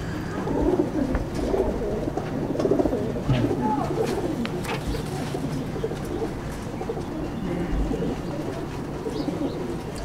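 Pigeons cooing steadily in a pigeon loft in Ankurhati, Howrah, among tournament-bred white Asad-line birds, a dense continuous murmur of overlapping coos close by with scattered wing and bird sounds.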